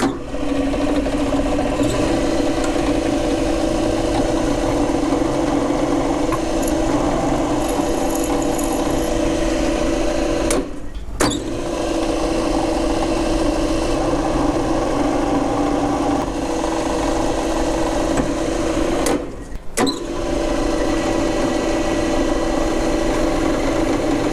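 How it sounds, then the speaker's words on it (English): Metal part for a mini lathe DRO being power-sanded: a loud, steady whirring grind runs throughout with no voices, cut by two brief dropouts partway through. "I'm going to sand this all off and make it nice"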